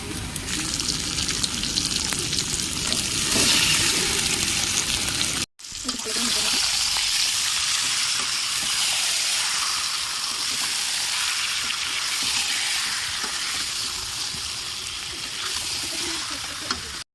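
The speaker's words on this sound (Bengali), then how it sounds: "এবার ম্যারিনেট করা চিকেনগুলো আস্তে আস্তে দিয়ে দেবো" Marinated chicken being added to browned onions in a pan for chicken curry, giving a loud, steady sizzle and hiss that continues throughout after a brief break, close up, with no talking.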